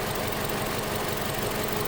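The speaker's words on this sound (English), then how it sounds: "You can see right now the engine is shaking pretty bad. So definitely right there we have a misfire." A 2013 Hyundai Elantra engine idling rough with a misfire, a loud, close, continuous rumble with an uneven, shaking pulse and no voices over it.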